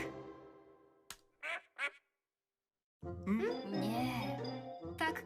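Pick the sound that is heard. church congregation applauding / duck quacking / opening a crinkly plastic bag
duck quacking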